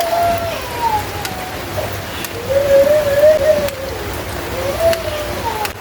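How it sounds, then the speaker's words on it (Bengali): Rain falls steadily outside, a continuous soft hiss with occasional faint warbling calls in the background and no one speaking. "এদিকে বাইরে বৃষ্টি হচ্ছে"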